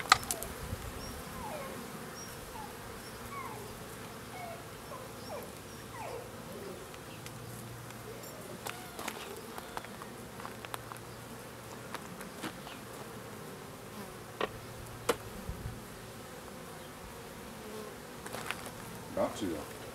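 Honeybees buzz around an opened hive on a cool spring day, a dense continuous drone close by with scattered individual bees passing, while people talk quietly beneath the hum.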